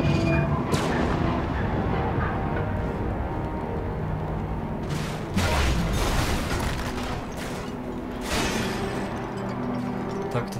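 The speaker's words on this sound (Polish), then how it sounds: "Z tym wybuchem miałem rację" Explosions in the video game LEGO Marvel Super Heroes 2 burst in a loud, dense series of booms and crackling blasts over a constant roar of action.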